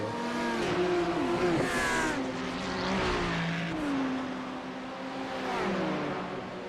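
A Lamborghini race car accelerates hard out of the Moss hairpin at Mosport during a World Challenge race, its engine note climbing through several rising sweeps with gear changes, close and loud, with another car audible nearby.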